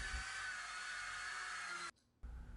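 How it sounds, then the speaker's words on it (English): A power sander with 80 to 220 grit paper whirs steadily on wood at close range, cuts out for a brief moment, then starts up again. "Sanding with 80, 120 and 220 paper grit."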